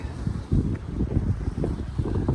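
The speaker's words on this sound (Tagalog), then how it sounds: "Malakas ang hangin." Strong, gusty wind at sea buffets the microphone in low rumbling bursts over a steady roar.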